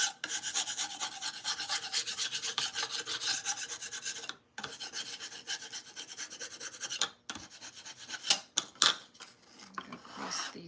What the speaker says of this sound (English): This side is going to need a little scraping.